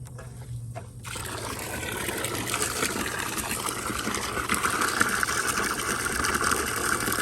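Water rushes through a garden hose fitted to a twist-on connector where there is no spigot, a steady hissing flow that starts abruptly after a second and continues loudly without a break.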